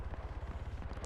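Rapid, evenly spaced M14 sniper rifle shots in ARMA 3 with RHS, a steady string of deep booming reports at long range, loud and close with no talking.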